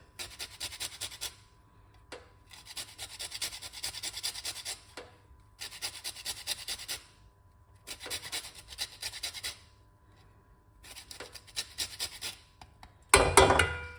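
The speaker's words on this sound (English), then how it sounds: "so we zest the lime" Lime zested against a grater in rhythmic bursts of dry rasping strokes, close and fairly loud, separated by short pauses, ending in a harsher louder scrape.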